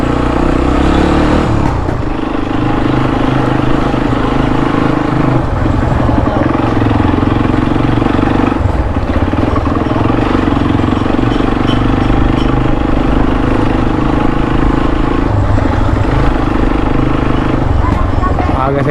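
A motorcycle engine runs loudly and continuously on a street in Azam Town and Akhtar Colony, with a throbbing, clattering drone that stays close throughout.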